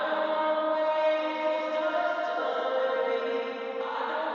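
Vocal sent through a huge hall reverb set fully wet in an alternative pop mix, a washed-out, continuous shimmering tail of sustained tones without dry attacks, steady and moderately loud throughout.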